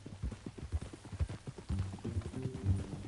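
Horse hooves clip-clop in Red Dead Redemption II, a steady, close rhythm of hoof falls on the ground that keeps going under a faint low murmur.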